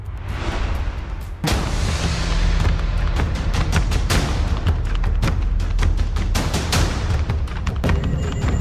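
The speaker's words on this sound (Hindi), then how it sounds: "उन्होंने न सिर्फ खुलेआम हथियारों को लहराया बल्कि नियम कायदों की धज्जियां उड़ाते हुए जमकर फायरिंग कर डाली" Celebratory gunfire from supporters after an election win rings out as dense, loud volleys of sharp bangs over a constant crowd roar, outdoors with many rapid overlapping shots.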